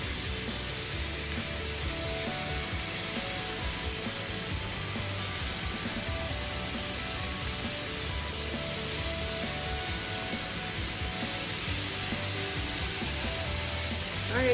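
Beetroot stir fry, Kerala style and vegan, sizzles in a pan just after being flipped: a steady, even crackle and hiss that runs unbroken at moderate level, with no talking.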